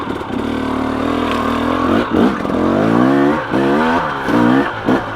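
A 2017 KTM 300 XC dirt bike climbs a steep, technical trail, its engine loud and close, revving up and dropping off in repeated surges with brief throttle blips.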